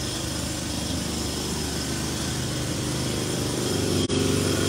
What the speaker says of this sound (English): it's gonna be loud because I hear a jackhammer